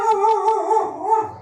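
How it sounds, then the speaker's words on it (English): Dog howling alone, a single long, loud, close howl that wavers and slides in pitch for over a second with no voices. "oh my goodness, this dog."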